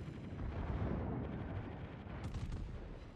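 Heavy battleship gunfire booms in the naval game World of Warships, a deep, rumbling roar of shell fire that swells and lingers without any talk.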